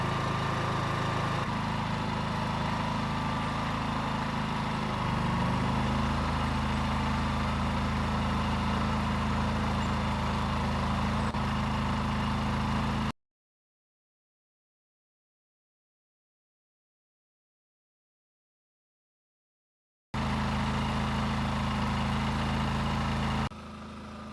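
Erayak 8000iE portable inverter generator running under a 3,000-watt load, a steady low engine drone with a slight shift in pitch, cutting out into silence partway through before resuming.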